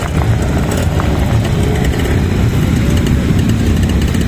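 Classic motorcycles, including Triumphs, a Triton and a small Honda, ride past in a Whitby bike parade, their engines a loud, continuous, close rumble with throbbing exhausts and no break.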